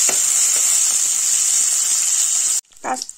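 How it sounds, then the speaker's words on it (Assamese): Cashews and raisins hiss and sizzle steadily in hot ghee for a few seconds, close up, then the sizzle cuts off abruptly. "অকণমান গোটেইখিনি ধুনীয়াকৈ ভাজি ল'ম"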